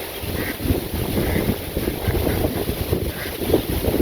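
Strong wind sweeps through village trees ahead of rain, a dense, steady roar with buffeting gusts hitting the microphone, loud and continuous throughout, with no speech.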